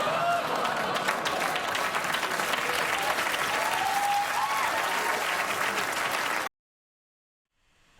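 Studio audience at a live comedy show applauding after a joke, a dense wash of clapping that holds steady and loud for several seconds, then cuts off abruptly into silence.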